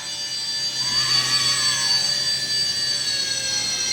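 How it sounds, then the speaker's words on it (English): Esky 150EC 1:68 scale RC helicopter flying, a steady high-pitched electric whine with a faint wavering tone, fairly loud and continuous with no talk. "So I wouldn't recommend catching this helicopter."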